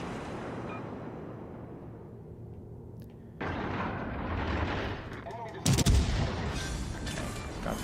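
Naval gunfire in World of Warships from the cruiser Omaha: a steady rumbling battle din gives way to a louder burst of cannon fire, then a sharp close blast near the end, with no talk.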